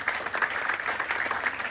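Audience at a Tamil welcoming ceremony applauds an arriving guest, a dense, even wash of many hands clapping at moderate loudness, sustained without a break.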